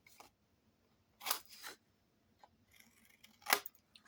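Scissors snip off the small corners of paper pages for a handmade rainbow album, a few quick separate cuts close by with quiet pauses between them.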